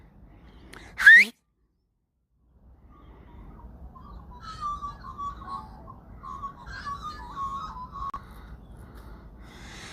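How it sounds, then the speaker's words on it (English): A sharp rising whistle-like call from Australian magpies, then after a pause, warbling, fluting birdsong carries on softly at a distance. "Can you hear the magpies?"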